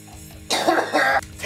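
A single sharp, close cough with a throat-clearing rasp comes after a sip of coffee brewed with toilet paper, breaking a quiet room.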